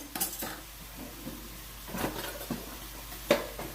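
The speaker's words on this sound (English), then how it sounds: "go ahead and give those a little bit of a stir here. I don't know why I'm using a spoon for this." A spoon scrapes and clinks against a pan while savory rubbed apples with a little barbecue sauce are stirred, giving a few scattered, soft metallic knocks at close range with no one talking.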